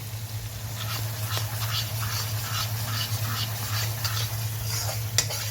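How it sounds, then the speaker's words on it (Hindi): Coriander powder being stirred into drumstick and potato sabzi frying in a pan, a soft steady sizzle with light scraping stirs over a low constant hum. "अब मैं यहाँ पर 1 चम्मच धनिया पाउडर डालूँगी और इसे अच्छी तरह से मिक्स कर लूँगी।"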